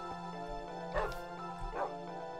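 Dogs in the video game Minecraft yipping and whimpering in short bursts, a few quick cries close by over a steady low background hum.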